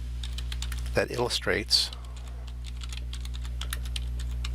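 Keystrokes on a computer keyboard while entering link text in an accessibility window, a steady scatter of light clicks running throughout with a short burst of speech partway in.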